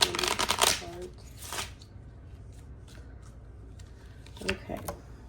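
Gypsy Witch fortune telling cards being shuffled, close and soft: a few quick riffling bursts at the start, then a quiet pause and another short burst near the end.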